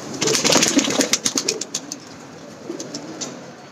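Tournament flying pigeons of a top-line breed beat their wings in a quick burst of close, rhythmic flaps, then coo softly with a few scattered flutters. No talking.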